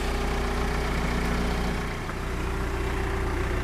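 A John Deere digger engine idles steadily with a low, even drone, close and constant, with a slight dip midway and no voices.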